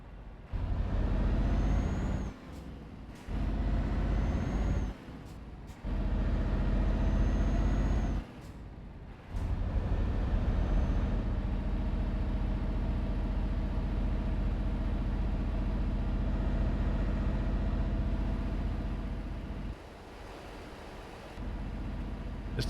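A Scania truck in Euro Truck Simulator 2 hauls a 26-ton load, its deep engine drone broken early on by several short hissing air-brake releases before settling into a steady, loud rumble.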